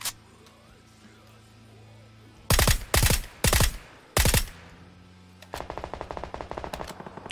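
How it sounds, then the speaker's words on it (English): Video game gunfire on a beach: a few loud, close bursts of automatic fire separated by brief pauses, then a quicker, fainter string of rapid shots toward the end. "There's someone down here on the beach shooting at these guys."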